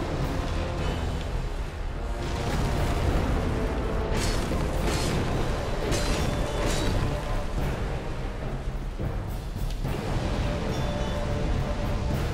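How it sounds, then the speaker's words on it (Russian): Loud booming explosions in Dark Souls 2, a series of heavy bursts with rumbling tails over continuous dense noise, no talk. "Сейчас будет взрыв."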